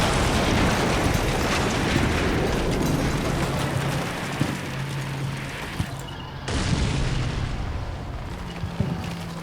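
An artillery barrage in the wargame Combat Mission Black Sea rumbles on as a dense, continuous roar of overlapping explosions, with sharper individual booms standing out near the end.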